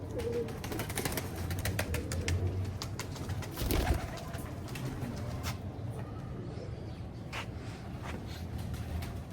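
Teddy pigeons coo softly and continuously at close range, with occasional sharper knocks and a brief louder burst partway through.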